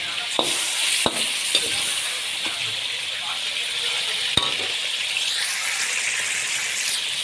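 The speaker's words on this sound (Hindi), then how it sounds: "चिकन को आपने अच्छे तरीके से कुक करना है ताकि ये गोल्डन ब्राउन हो जाए।" Chicken pieces fry in hot oil for a black pepper karahi, cooking toward golden brown. A continuous close sizzle is broken by a few sharp metallic clinks of a spoon on the pan.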